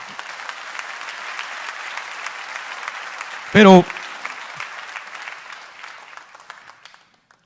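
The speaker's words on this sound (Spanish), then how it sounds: "Dele un aplauso al Señor, de verdad." A church congregation gives steady, sustained applause for the Lord, with a brief loud voice cutting in midway before the clapping fades out.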